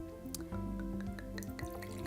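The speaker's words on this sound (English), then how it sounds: "now you're ready to pour and enjoy the wine" Wine pours into a glass with a close, quiet gurgle and splash of liquid, with drips and bubbling over about two seconds.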